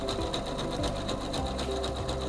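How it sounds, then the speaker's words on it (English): A SINGER C430 sewing machine runs a zigzag stitch with a few tie-off stitches, a steady close mechanical whir with a rapid rhythmic needle clatter throughout. "It sews a few tie-off stitches and then resumes sewing the stitch."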